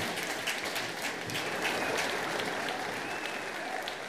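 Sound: audience clapping along to a song

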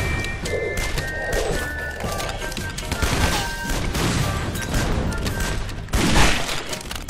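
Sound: gunshot and explosions in video game Guns, Gore & Cannoli

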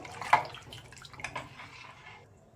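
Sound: pouring water into pot

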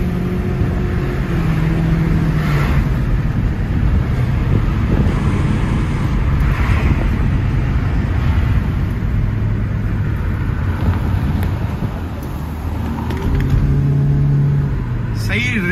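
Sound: cars racing, Honda Civic vs Kia Sportage

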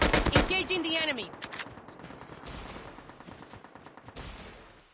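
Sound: gunfire in Call of Duty Mobile video game

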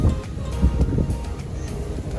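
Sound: wind at a beach

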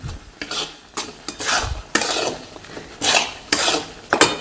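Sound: stirring amla jam mixture in a pan

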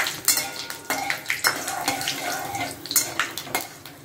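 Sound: whole spices frying in mustard oil in a pan

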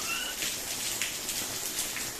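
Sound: rain

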